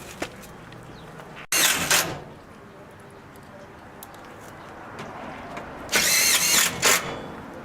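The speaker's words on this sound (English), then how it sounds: "Look at how easy those self-tapping screws going. No pre-drilling, no rivets." A power drill whirs in two short bursts a few seconds apart, driving self-tapping screws without pre-drilling on an outdoor kitchen build, against a quiet outdoor background.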